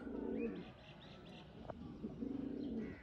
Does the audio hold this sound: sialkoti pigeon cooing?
yes